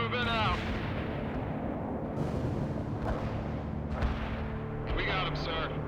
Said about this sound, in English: Mortar strike took care of enemy units in target area.